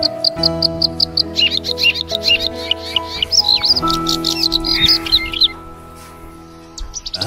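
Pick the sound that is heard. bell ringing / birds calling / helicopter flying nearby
birds calling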